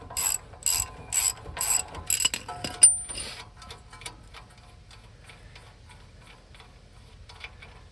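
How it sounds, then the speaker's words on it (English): Ratchet wrench loosening a castle nut on a lower ball joint of a 1996-2002 third-generation Toyota 4Runner: several quick bursts of ratcheting clicks in the first few seconds, then a faint metallic clink and sparse, quiet ticking. "we're going to go ahead and loosen this castle nut."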